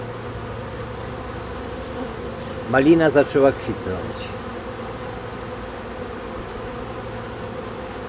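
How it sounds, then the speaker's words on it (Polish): A steady drone of a large honeybee swarm buzzing throughout, with a person speaking briefly partway through. "pszczoły masowo noszą pyłek"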